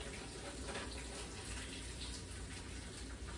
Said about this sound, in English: I'm going to do that and just strain this pasta water out